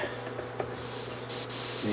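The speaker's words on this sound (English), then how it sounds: "I'm going to spray it about" An airbrush sprays paint onto a 1/24 scale model car in two short bursts of close, sharp hiss; the second burst runs longer and louder, after a quieter lead-in.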